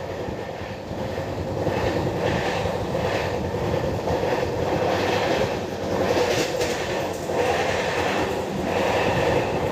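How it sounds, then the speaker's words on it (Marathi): A Mumbai suburban train running toward Dadar, heard from inside the coach as a loud, steady rumble with rhythmic wheel clatter and swelling surges, with no talk. "रेल्वे चालली आहे"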